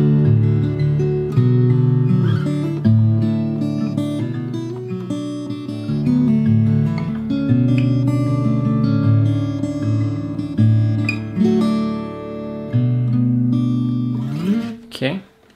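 Fingerstyle acoustic guitar picking the chorus of a song, with clear plucked notes and ringing bass strings moving through chord changes in a steady, gentle rhythm, played solo and close.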